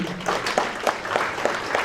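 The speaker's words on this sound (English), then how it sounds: "Please clap for yourselves for being here." Brief scattered applause from an audience at a town hall meeting on data centers in Kenosha, a short burst of claps in a large room.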